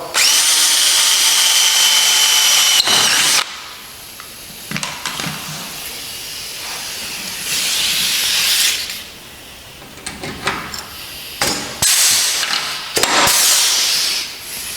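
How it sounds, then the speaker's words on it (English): A 3/16 drill bores rivet holes through the wing sleeve of an Aerolite 103 ultralight during wing assembly, several loud close bursts of high-pitched whine separated by pauses, with brief scraping and handling noise between holes. "So we start with riveting with a 3/16 drill."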